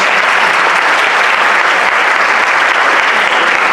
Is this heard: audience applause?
yes